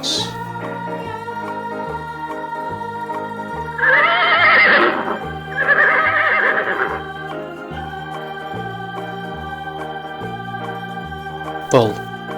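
Two loud, shrill horse neighs of whinnying, descending character sound close by over a background music track, with a short sharp noise near the end.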